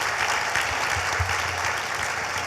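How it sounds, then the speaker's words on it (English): Audience at a social justice panel applauding, a dense, even wash of clapping that fills the whole stretch at steady volume. "give a round of applause to Kano Heidi, who had this vision to bring all of us here"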